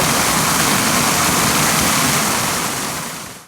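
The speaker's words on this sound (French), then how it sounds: "Et vous voyez, il y a une cascade." Overflow from an aqueduct pours into a basin as a waterfall, a loud, dense, continuous rush of splashing water close by that fades slightly at the end, with no voices.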